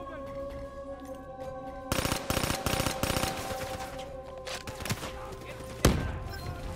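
A grenade explosion lands a kill in the video game Black Ops III, a single heavy boom near the end amid steady rapid gunfire and in-game action.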